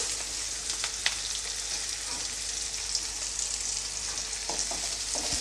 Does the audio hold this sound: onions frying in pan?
yes